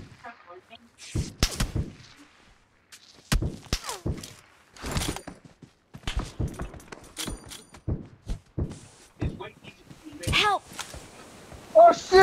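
Gunfire in the mobile battle royale game PUBG Mobile: sharp, scattered shots and short bursts crack out at irregular intervals between quiet gaps, with a few busier moments.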